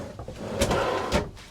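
A drawer in the wardrobe of a 2026 KZ Durango HT 296BHT RV slides open and shut, giving a short wooden rumble with two knocks about half a second apart, close by, in a small interior.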